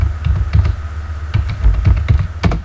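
Rapid bursts of computer keyboard typing entering the web address zuhu.com, clustered keystrokes in quick runs with brief pauses, close and fairly loud, no voices.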